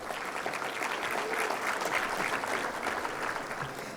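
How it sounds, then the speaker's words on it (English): An audience at a luncheon event applauds, a steady dense wash of hand clapping that holds at an even level throughout. "I think that deserves a hand clap just like that."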